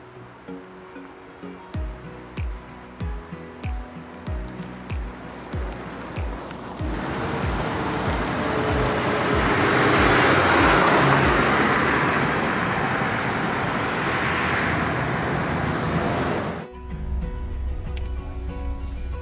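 A Renault Twingo I with a 1.2 8V engine drives on a road, with close engine hum and rhythmic thumps at first, then rising, broad road and wind roar that swells and holds before dropping off near the end.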